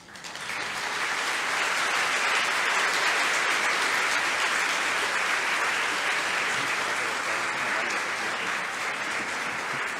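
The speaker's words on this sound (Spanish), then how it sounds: "Así es, fuerte el aplauso" An audience applauds steadily after an education lecture on a study plan, dense sustained clapping filling the whole stretch at a fairly loud, even level with no voices on top.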